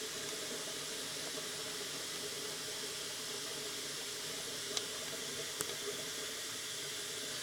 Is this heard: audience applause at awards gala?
no